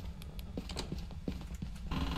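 Horse hooves clip-clop steadily in a video game, a rhythmic series of close, sharp knocks over a constant low background hum.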